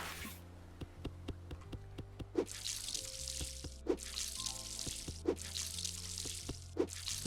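Watering can sprinkling plants in the garden game Tools Up, a soft recurring water splash heard in several bursts over light game music, no talking.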